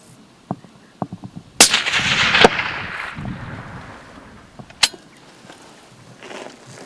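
A sharp, loud rifle shot cracks out and rings off, followed by another distant report, with a few small clicks and knocks around it.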